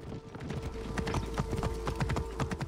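A horse gallops at speed in the video game Assassin's Creed Origins, its quick, steady clip-clop hoofbeats close and loud over a constant game background hum.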